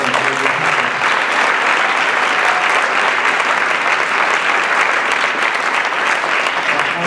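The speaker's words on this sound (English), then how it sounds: "how about a great big round of applause for all the booster parents" A large crowd gives sustained, dense applause for booster parents at a high school event, a steady, loud wash of clapping that holds evenly throughout with no break and no speech over it.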